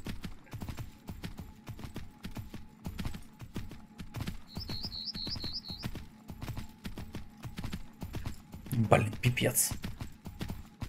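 Steady rhythmic clip-clop of horse hooves while riding in the video game Myth of Empires, with brief bird chirps and someone speaking over it.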